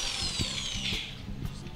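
A power drill drives a hand-held shredder attachment at a picnic, a steady high-pitched motor whine with repeated low grinding pulses as it chews through material, loud and close with no talk.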